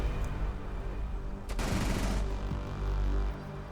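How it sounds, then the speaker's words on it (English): Grenades going off in a Rainbow Six Siege esports match, with a sharp blast and rumbling low explosions layered over steady game noise. "Grenades go out everywhere"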